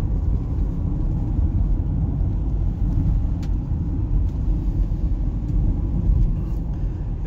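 Subaru Outback engine pulling while driving, a strong continuous low rumble with road and wind noise heard from inside the cabin, steady and loud without voices.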